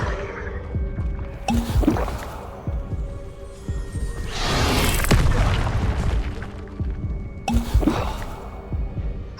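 Spell effects from the Hogwarts Legacy video game, an Accio summoning cast: a loud whooshing magical swell in the middle, set between sharper impact bursts and a steady low game rumble.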